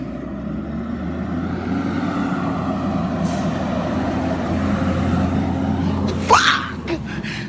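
A truck rumbles steadily on the road close by, ending in a sharp hiss of air brakes releasing.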